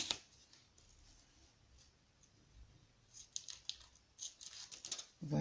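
Scissors cut paper close by with a few quiet snips, a crisp cluster late on after a mostly hushed stretch of faint handling noise.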